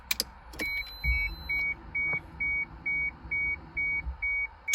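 A Toyota Supra MK3 with the ignition switched to on gives a regular series of short electronic beeps, about a dozen evenly spaced chimes over a low interior hum, starting after a few clicks.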